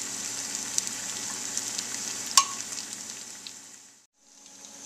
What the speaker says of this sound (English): we're going to fry them on each side for about 3 minutes each, or until they're golden brown